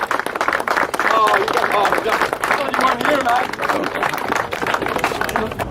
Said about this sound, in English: I want you guys to give the biggest round of applause to Joe Holder!